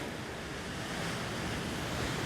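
Ocean waves breaking on a seashore give a steady, loud wash of surf with wind noise mixed in, with no voices.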